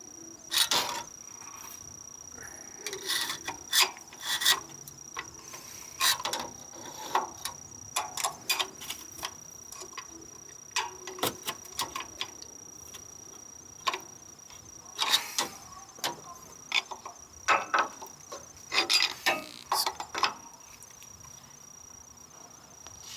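Metal tools pry an old compressor clutch magnet off the aluminum compressor housing of a 1997 Ford F-150, making irregular sharp clicks, scrapes and taps close by, with a faint steady high whine underneath.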